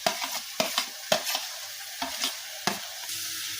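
Dhekia shaak greens cooking in a pan with mustard give a soft background sizzle broken by several sharp stirring scrapes and clinks from a spatula, close and alone with no voices.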